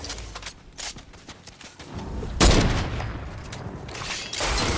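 Gunfire rings out in a Fortnite Zero Build squads match, with bursts of sharp shots and booms at varying loudness scattered over a few seconds, some heavier impacts near the middle and end.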